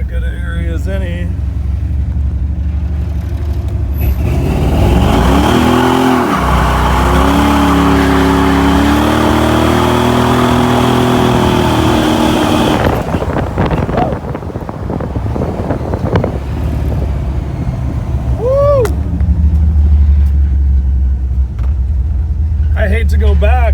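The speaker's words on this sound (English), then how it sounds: "And we promised some burnouts, so let's light up a little burnout up here." Small-block Chevy 350 car with MSD ignition doing a burnout: a loud, close engine roar builds and holds at high revs for several seconds with wind buffeting, then drops back to a rumbling idle with revving and some speech.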